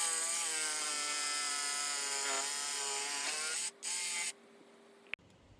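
A jigsaw with a new blade cuts timber for a fire pit, a loud steady buzzing rasp that briefly cuts out, resumes, then stops with a sharp click.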